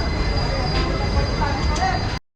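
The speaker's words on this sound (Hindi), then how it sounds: "यहाँ से अब हो रहा है ट्रेन का डिपार्चर।" A long-distance express train departing from an Indian railway station on the Mumbai CSMT–Hyderabad line, a steady close rumble of rolling wheels and carriage noise with a faint squeal, continuous until it cuts off abruptly.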